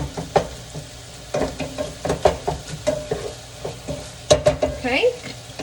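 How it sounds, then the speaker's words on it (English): A utensil chops and stirs ground meat in a pan for stuffed peppers, making repeated scraping knocks in an uneven rhythm over a sizzling bed of cooking. The sound is close and fairly loud with no speech. "Just kind of chops up your meat like this, makes it real small"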